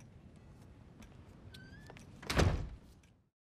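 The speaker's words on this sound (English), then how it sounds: "Close the door on your way out." A door closing indoors: faint shuffling and small clicks build to one solid thunk of the door shutting, then the sound fades out into silence.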